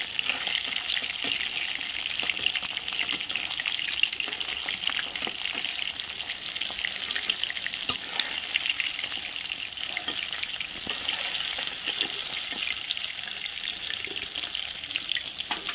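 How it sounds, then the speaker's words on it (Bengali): Fish fry in hot oil in a pan, giving a steady, loud, continuous sizzle with faint crackles and occasional stirring scrapes throughout, with no talk over it. "মাছগুলো দেখো ভাজা হয়ে গেছে আমার"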